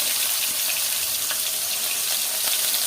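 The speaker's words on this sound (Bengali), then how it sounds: "তেল অনেক গরম হয়ে গেছে বাবা রসুন পেঁয়াজ রসুন পেঁয়াজ কাঁচামরিচ" Garlic, onion and green chili frying in very hot oil give a steady, dense sizzle that runs unbroken throughout, close and fairly loud, with no talking.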